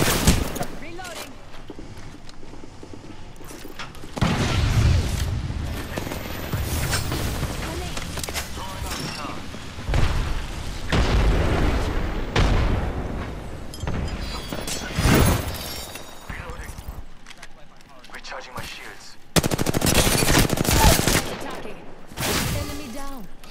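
Apex Legends firefight with bursts of automatic gunfire and sharp single shots at varying distances, loud clusters separated by short gaps, mixed with game sounds and a voice talking at times.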